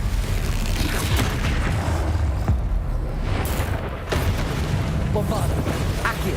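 Spell blasts from Confringo and Bombarda in Hogwarts Legacy, a dense run of booming explosive hits and crackling impacts over continuous game music and effects, loud and close throughout.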